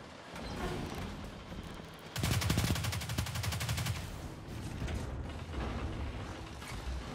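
Riskrunner arc gun from Destiny 2 letting loose a rapid, rattling burst of fire for about two seconds, followed by scattered mechanical clicks and weapon noise in a busy game mix.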